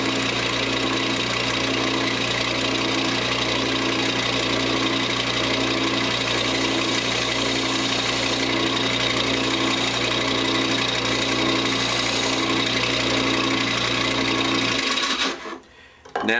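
A wood lathe spins while a fingernail gouge cuts a finial, producing a steady mechanical whir with a rhythmic chattering pulse, loud and continuous before it stops abruptly near the end.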